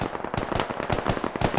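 Rapid gunfire in the military shooter Squad as a soldier takes hits, a quick string of sharp cracks and pops in close succession for a second and a half.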